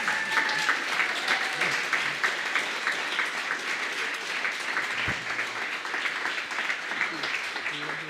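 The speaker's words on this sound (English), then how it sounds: "You have to continue clapping" An audience at a startup demo day applauds in a continuous dense wash of clapping that holds steady throughout, with faint voices and cheers mixed in underneath.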